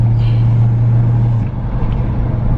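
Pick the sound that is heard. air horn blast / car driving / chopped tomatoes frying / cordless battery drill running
car driving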